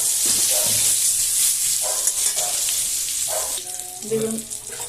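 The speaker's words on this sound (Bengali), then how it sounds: "বেগুনটা ভাজা হয়ে গেছে, এবার আমি তুলে নিচ্ছি।" Brinjal frying in oil for a Bengali fish curry with potato, a close, continuous sizzle with a few soft scraping stirs and faint background sounds.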